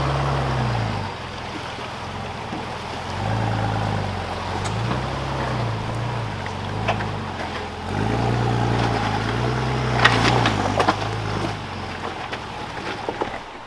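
A beater 4WD truck drives through a river on a coastal off-road trail, its engine droning low and surging up and down as water swishes and splashes around it, with no talking.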